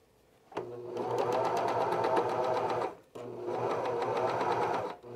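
A cover stitch sewing machine fitted with a binding attachment runs in two loud, steady bursts, with a rapid mechanical whirr and rhythmic clatter, separated by a brief pause, heard up close without talking.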